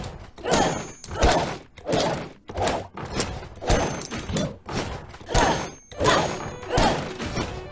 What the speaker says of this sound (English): And now we get to break all the barrels.